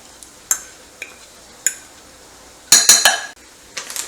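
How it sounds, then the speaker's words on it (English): Bacon bits tipped into a bowl and mixed by hand with cheese for a bacon ranch cheese ball, sharp clinks of a utensil against the bowl, a few spaced taps then a quick cluster of scraping knocks, close and otherwise quiet. "So I'm going to add the little part here of the bacon now."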